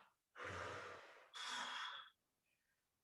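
Two long, breathy exhalations during a gentle yoga breathing exercise, close and clear, separated by a short pause, with quiet in between and no talking.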